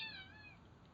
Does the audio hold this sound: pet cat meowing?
yes